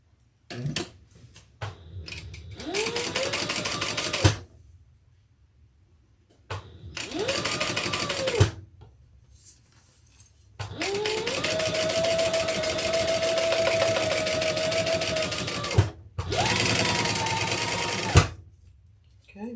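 Sewing machine stitching a handbag lining, running in four separate bursts of steady motor whir and needle rattle, the longest about six seconds, with short quiet gaps between, close and fairly loud.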